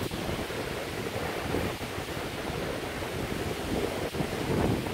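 Wind gusting over open water on the Cambodian coast with waves washing steadily, a broad continuous roar with no voices.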